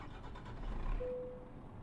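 A truck engine turns over and catches in Euro Truck Simulator 2, a quiet, low mechanical rumble that builds briefly, then settles as a thin steady tone lingers.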